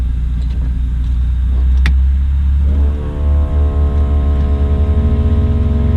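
A light aircraft engine cranks with a low rumbling churn, catches after a few seconds, and settles into a steady, loud, rhythmic running drone with throttle applied.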